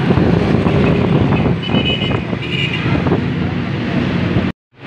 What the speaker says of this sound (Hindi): मौसम बहुत प्यारा है भाई ने देखिए हवा चल रही है